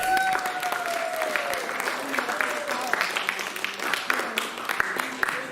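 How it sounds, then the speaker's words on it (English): Audience members at a Jesters show applaud after a splash-zone act, scattered clapping running under children's voices and chatter nearby, with some louder individual claps standing out. "Let's give everyone a round of applause."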